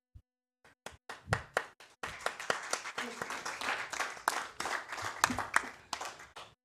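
Audience at a town mayoral candidate forum breaks into applause, starting with a few scattered claps and swelling into a steady, fairly close round of clapping that continues to the end.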